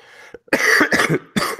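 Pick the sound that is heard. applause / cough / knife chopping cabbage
cough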